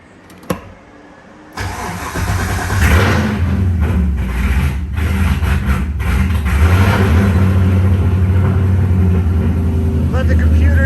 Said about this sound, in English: let's see if it fires up with the new battery